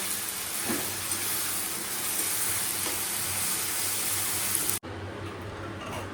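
Spice paste fries in hot oil for chicken curry, giving a loud, steady sizzling hiss up close that suddenly drops to a quieter simmering hiss near the end.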